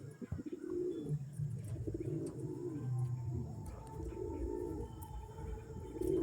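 Pigeons for sale cooing nearby, a soft low throaty rolling coo repeated continuously with faint background hiss, no voices.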